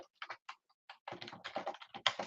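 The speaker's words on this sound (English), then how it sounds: "you start typing your content" Someone types on a computer keyboard, a quiet run of quick irregular key clicks that starts sparse and then speeds into a denser burst of taps.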